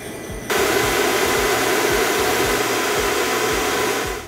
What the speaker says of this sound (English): I'm using a blowtorch